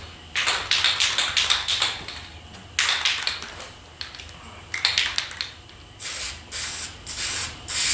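Spray paint laid down as a second coat on an M1A rifle stock comes as a run of short, loud, close hissing bursts in quick rhythm, then a few longer blasts, with no voices.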